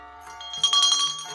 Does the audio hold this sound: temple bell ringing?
yes